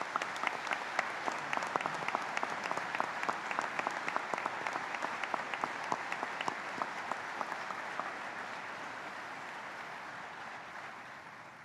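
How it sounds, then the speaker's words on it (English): An outdoor audience at a Veterans Day ceremony at Arlington National Cemetery applauds the national veterans leadership, a sustained burst of clapping that holds steady for several seconds and then gradually tapers off. "Ladies and gentlemen, please join me in recognizing our Veterans National Leadership with your applause."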